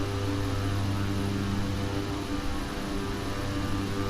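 Propeller engines of a flight-simulator airplane climbing out of Summit, Alaska at 90% power with the props at 1600 RPM drone in a steady, loud, even hum that holds without change throughout, no voices.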